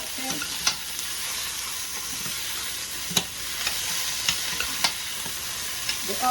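Chicken chow mein sautéing in a pan on a stove top, a steady close sizzle with intermittent stirring scrapes and clinks of a utensil, no talking.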